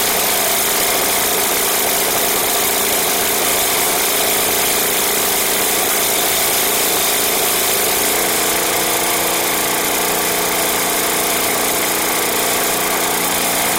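A small snow blower engine warming up idles steadily with a constant droning hum and mechanical rattle, running alone throughout with no voices.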